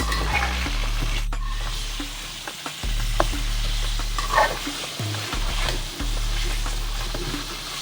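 Bone-in beef frying with golden onions in a pot, a steady close sizzle broken by stirring scrapes and clatters, with no talking.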